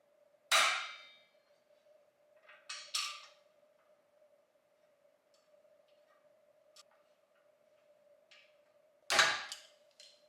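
A few sharp, loud clanks and metallic knocks ring out as a bolt-on bumper is clamped down on a Polaris Ranger, with quieter ticks in between over a steady faint hum.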